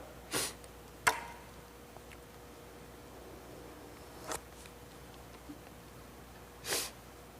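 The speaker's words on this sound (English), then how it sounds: "Sorry about the sniffles." Several short, sharp sniffs spaced apart in a quiet room, close to the mic, with faint breathing between them.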